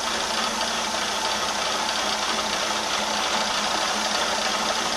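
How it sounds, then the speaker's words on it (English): A milling machine runs a two-flute 20 mm end mill at 800 RPM, producing a constant dense mechanical roar with rattle and hum throughout, loud and close with no pauses. "Using that 2 flute 20 mil end mill, running 800 RPMs"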